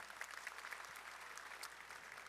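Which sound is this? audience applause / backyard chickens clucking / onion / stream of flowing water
audience applause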